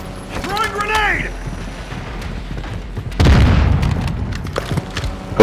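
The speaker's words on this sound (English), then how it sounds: "grenade!" A grenade goes off in Call of Duty Warzone, one loud booming blast landing midway with a rumbling tail, following earlier game sounds and a voice.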